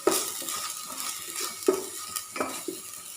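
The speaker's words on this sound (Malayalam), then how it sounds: "ഈ വെളുത്തുള്ളി, ഇഞ്ചി, പച്ചമുളകിൻ്റെ പേസ്റ്റ് നന്നായിട്ടൊന്ന് വെളിച്ചെണ്ണയിലൊന്ന് മൂപ്പിച്ചെടുക്കുക." Garlic, ginger and green chilli paste frying in coconut oil sizzles steadily while a utensil stirs it, with a few sharp clinks against the pan and no talking.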